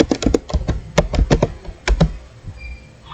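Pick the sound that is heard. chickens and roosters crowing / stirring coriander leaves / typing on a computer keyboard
typing on a computer keyboard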